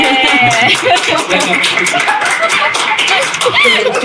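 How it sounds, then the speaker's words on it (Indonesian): An audience at an Indonesian talk show claps together in a short burst, mixed with chatter and a few chuckles. "boleh tepuk tangan dulu boleh"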